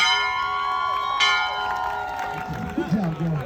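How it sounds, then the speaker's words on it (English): A graduate rings a bell at a Class of 2023 college-acceptance celebration, its bright harmonic tone sustaining for a few seconds with a second strike partway through, while a crowd cheers and a voice calls out near the end. "Ramonta, ring that bell!"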